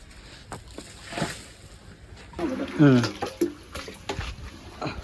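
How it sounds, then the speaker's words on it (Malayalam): Water is scooped by hand out of a fish tank being cleaned, giving soft splashes and sloshing pours that come in short bursts, close by, while a person talks over part of it. "നമ്മളിതാ ഓരോ തുള്ളി വെള്ളം എടുത്ത് ഒഴിവാക്കിക്കൊണ്ടിരിക്കുകയാണ്"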